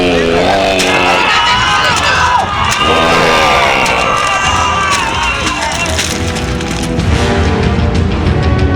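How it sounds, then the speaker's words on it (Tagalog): A crowd shouting and cheering at a distance, a continuous wash of many voices with some higher whoops rising above it, steady and loud throughout without pause. "Sa gawing yun nagmumula ang narinig natin sigawan."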